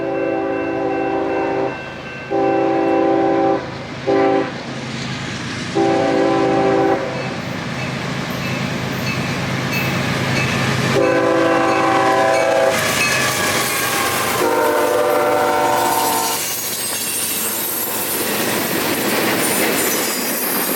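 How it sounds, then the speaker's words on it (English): CSX mixed freight trains rumble along the busy S line near Waycross, with repeated horn blasts, steady engine drone and rolling wheel noise, loud and close without talk. "the sounds of rumbling engines, crossings activating, and distant train horns fill the air"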